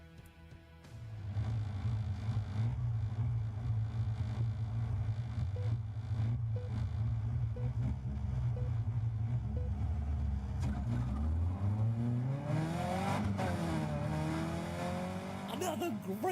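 A packed field of Caterham race cars accelerates off the grid at a race start at Snetterton, engines droning loudly together and then climbing in pitch as they pull away, with a commentator's voice over the roar.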